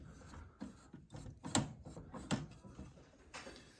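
A homemade hand clutch mechanism on a shifter kart gives off quiet, close mechanical clicks and ratcheting as it is worked, in a few irregular bursts.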